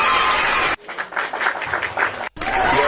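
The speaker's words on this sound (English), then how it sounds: "submission deserves a clap, bigger clap" An audience applauds in a steady, crowded patter of clapping, broken by abrupt cuts that drop to a softer, thinner round of claps before the full applause returns.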